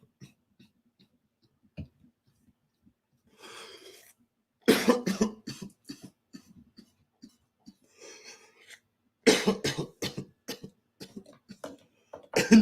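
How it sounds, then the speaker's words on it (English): A few isolated coughs at first, then two bursts of harsh, repeated coughing fits, close and loud, separated by quiet pauses. "Maybe it's a good thing I start coughing"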